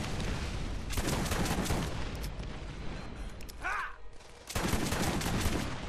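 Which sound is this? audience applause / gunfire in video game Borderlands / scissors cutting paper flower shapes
gunfire in video game Borderlands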